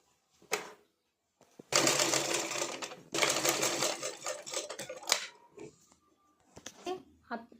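A sewing machine stitches a blouse in several whirring bursts of a few seconds each, with short clicks and pauses between them and a person talking during the gaps.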